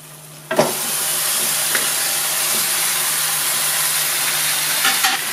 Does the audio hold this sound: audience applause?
no